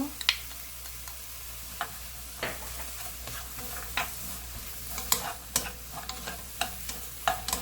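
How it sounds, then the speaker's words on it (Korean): Shiitake mushrooms sizzle quietly in a pan over medium-low heat with oyster sauce while a utensil clicks and scrapes in an uneven rhythm as they are stirred. "볶아줍니다."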